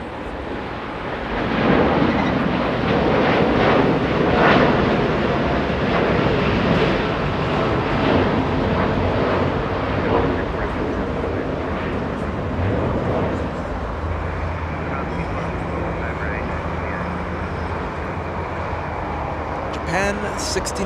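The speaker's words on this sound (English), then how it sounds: "Japan Airlines 69, heading to Osaka. Dreamliner 787-9 using 25 right for departure." A Japan Airlines Boeing 787-9 Dreamliner departs runway 25 right at LAX, a broad distant jet roar that swells and gradually fades, with a person talking over it throughout.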